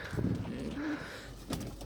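A pigeon coos softly close by on a balcony, a low throaty burble followed by a brief rustle.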